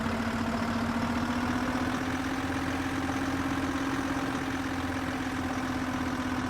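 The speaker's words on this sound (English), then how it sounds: "Thought I heard the engine starting up there." An aircraft engine starts up in the Airport Master airport simulation game. It is a steady, loud mechanical drone with a constant hum and no break from start to end.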